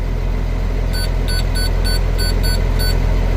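Short electronic beeps from a round baler's twine monitor repeat in an irregular series over a steady, loud rumble of machinery running nearby.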